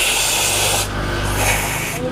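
A motorcycle throttle body, from a Mio Gear 125 scooter, is scrubbed clean of carbon, giving a continuous close, loud rubbing hiss with a brief change in texture partway through.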